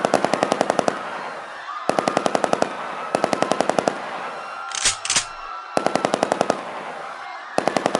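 Rapid bursts of machine-gun fire in a comic-style action scene, loud close volleys of evenly spaced shots in four separated rounds, with a brief whooshing swell between the middle bursts.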